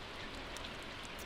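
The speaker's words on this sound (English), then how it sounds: "it's raining. I can hear it on the house." Rain falls on a house in a steady, dense patter, an even wash of drops with a few brighter taps standing out, continuous and without pauses.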